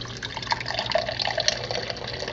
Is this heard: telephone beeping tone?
no